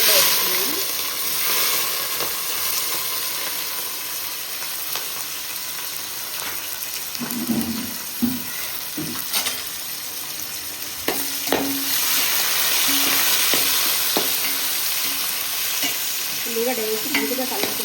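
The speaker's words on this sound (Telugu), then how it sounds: "ఉల్లిగడ్డ వేసి మంచిగా కలుపుకుంటున్నా." Onions fry and sizzle in a pan for a chicken curry, with a steady hiss under intermittent scraping and clattering stirs, close and fairly loud throughout.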